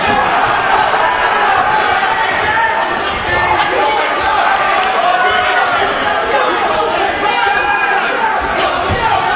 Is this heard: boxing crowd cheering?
yes